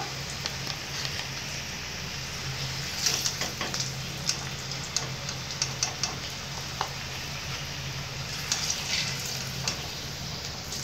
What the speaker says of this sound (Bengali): আমি কোনো কালার না দিয়েই আলুগুলো ভেজে তুলে নেব।